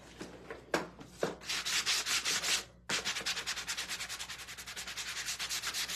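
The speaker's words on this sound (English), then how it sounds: "Let me just sand him lightly a little bit." A wooden flamingo craft is lightly sanded by hand in close, rhythmic rubbing strokes: a few short scrapes, then a long even run of quick back-and-forth passes after a brief pause.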